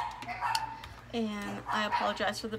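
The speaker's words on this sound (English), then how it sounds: "barking dogs." Dogs bark in short harmonic bursts, several close yips and woofs in a row, partly under someone talking.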